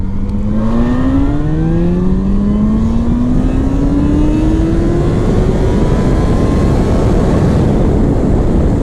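2005 Yamaha FZ6 motorcycle accelerating hard in a speed pull, the engine note climbing steadily in pitch through a gear, loud and close with heavy wind roar throughout.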